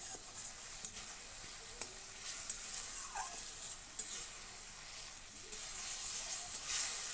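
Mango cooked down with ginger, cumin and turmeric in a pan, a faint steady hiss of frying with a few soft spatula clicks scattered throughout.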